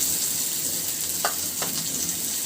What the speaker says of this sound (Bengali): শাক ভাজির জন্য আমি কড়াইয়ের ভিতরে দিয়ে দিচ্ছি